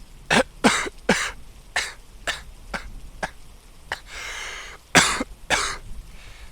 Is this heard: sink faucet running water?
no